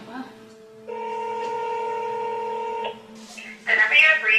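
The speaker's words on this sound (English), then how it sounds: "It's ringing." Ringback tone of a telephone ringing on the line, a steady sustained harmonic tone lasting about two seconds, clear and moderately loud, followed by a brief burst of other noise.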